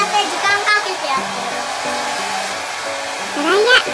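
A hair dryer blows steadily at close range while a child dries her own hair after a bath at home, a continuous airy whir with a voice talking over it.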